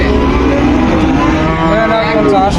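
Bullocks low loudly and close at a busy cattle market, one deep sustained moo carrying across the whole short stretch over a background of crowd noise.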